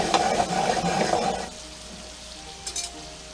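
Shrimp rolls on brioche bread sizzling in a hot pan, a loud dense crackling fry for about a second and a half that then drops to a faint low simmer with a brief clink near the end.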